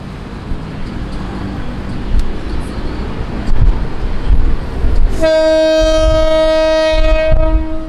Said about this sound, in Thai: เปิดเสียงหวีดด้วยครับ